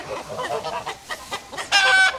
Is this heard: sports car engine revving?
no